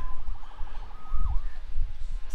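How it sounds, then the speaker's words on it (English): Police siren in the video game Marvel's Spider-Man Remastered, a wailing, rising and falling tone over low rumble, fairly close and sustained through the moment. "Saved by the siren."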